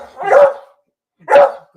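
A dog barks indoors at home, eager to be let outside: two loud, separate barks about a second apart, with silence between them.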